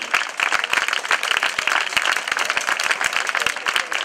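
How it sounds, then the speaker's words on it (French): Crowd at the Saint-Nazaire-de-Pézan village festival applauding, a thick, continuous burst of many hands clapping together at a steady, fairly loud level. "Voilà, on peut l'applaudir."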